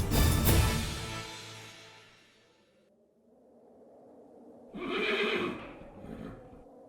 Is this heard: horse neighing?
yes